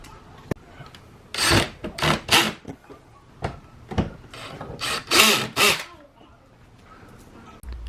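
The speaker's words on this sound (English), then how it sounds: "If you guys can hear them kind of popping in place of where they need to be." Plastic trim clips on a Lancer's chrome ring being pressed and popping into place: several bursts of rubbing, clicking and snapping with short sharp knocks between them, close by, and a little talk.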